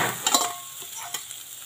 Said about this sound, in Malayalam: ഇനി നമുക്ക് ഇതിലേക്ക് നമ്മുടെ ചിക്കൻ ഇട്ട് കൊടുക്കാം